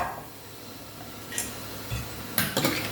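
A metal pot of milk is set down on a stovetop with a few close clanks and clatters over a quiet kitchen background.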